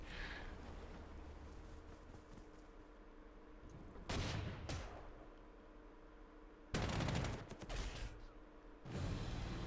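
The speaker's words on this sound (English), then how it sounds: "their AA is now shooting our aircraft from behind the minefield" Anti-aircraft gunfire in the WWII strategy game Panzer Corps 2 (Spanish Civil War setting) comes in three loud, crackling bursts, separated by quieter stretches of low ambient rumble.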